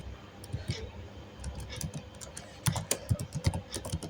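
Rapid, uneven keystrokes on a computer keyboard, sparse at first and then a denser close burst of typing near the end, with a person talking quietly in the background.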